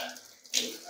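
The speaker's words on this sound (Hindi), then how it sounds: "अब चलिए यहाँ पे पानी ऑन करके देखते हैं" Water bursts from a newly installed kitchen sink mixer tap and keeps running steadily, starting partway in after a quiet, muffled moment.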